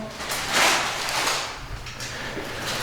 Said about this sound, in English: shut that door, please